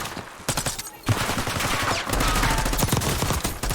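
Rapid automatic gunfire bursts from Call of Duty Warzone on the Verdansk map, loud and dense, with sustained volleys layered over one another across the clip.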